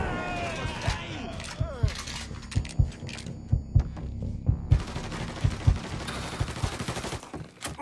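Gunshots in the crime game Mafia 3, a series of heavy, low thumping shots at a fairly regular pace, mixed under shouting voices and game background noise.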